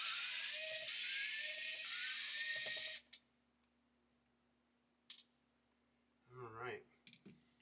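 An electric screwdriver backs out the screws of a Sega Game Gear handheld in three short, loud whirring bursts, followed by quiet with a faint click and a brief rustle of handling.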